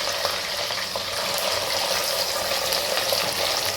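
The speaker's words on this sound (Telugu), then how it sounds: "ఉల్లిపాయలు పుదీనా కలిపి పేస్ట్ చేసి పెట్టానండి. అది వేసుకుంటున్నాను." Onion and mint paste frying in a pan for aloo kurma curry, a dense, even sizzle that holds steady throughout, close and fairly loud with no talking.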